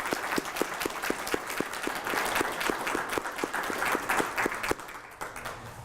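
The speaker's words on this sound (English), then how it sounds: "let's give our library staff a round of applause for what they do" An audience at the Albuquerque Summer Reading Program event gives the library staff a round of applause: full, continuous clapping with a few sharp individual claps standing out, tapering slightly at the end.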